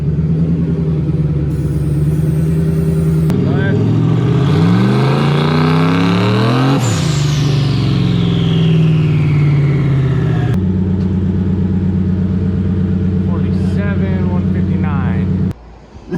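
A Ford Mustang hot rod's engine revs hard on a dyno, climbing in a loud sustained roar with a rising whine, then dropping off abruptly near the end.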